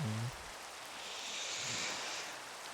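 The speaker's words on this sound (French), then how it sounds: "la pluie elle descend jusque là" Steady rain hisses in the Minecraft video game, a soft, even wash of falling water that holds throughout, with a brief voice-like sound at the very start.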